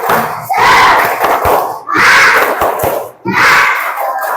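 Schoolchildren in a physical education class doing the 'tepuk semangat' clapping chant, a loud crowd of young voices shouting in unison in three bursts punctuated by sharp claps, close and energetic.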